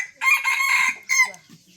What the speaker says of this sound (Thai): ไก่นี่กินบักฮุง